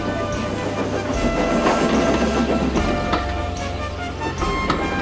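A train rumbles steadily along the rails with a rhythmic clickety-clack of wheels over joints, loud and continuous.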